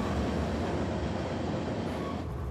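A heavy grain train rolls along mountain track on a tight curve, a loud, dense, continuous rumble and rattle of wheels on rails with no voices.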